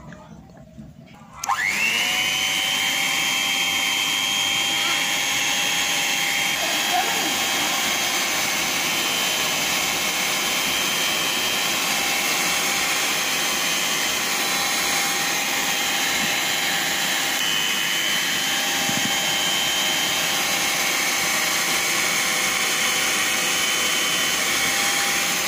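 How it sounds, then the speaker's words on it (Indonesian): An electric mixer whirs up to speed and holds a loud, steady high-pitched whine for over twenty seconds while blending cake ingredients, close and uninterrupted by voices. "lalu bahan-bahan ini kita mixer sebentar."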